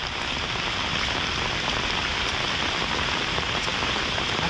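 Steady heavy rain falls in the Konkan countryside, a dense even hiss of drops on surfaces, close and constant with no voices.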